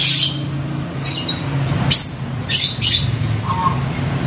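A hill myna squawking, several sharp loud calls at close range over a low steady hum in the background.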